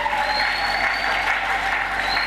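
Church congregation applauding together, a steady, dense wash of clapping that fills the whole moment at close range with no clear gaps or individual claps standing out.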